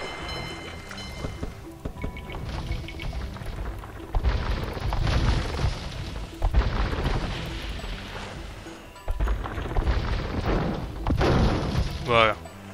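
Cannon galleons in Age of Empires II firing on a tower, with repeated heavy booms and thuds in bursts under a person talking.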